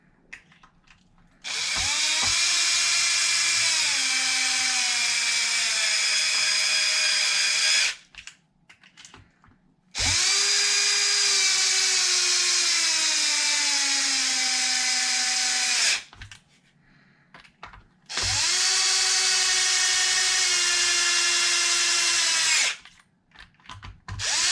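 A power driver tightens screws on a Traxxas X-Maxx RC truck in three long, loud whirring bursts, each running several seconds, separated by brief pauses.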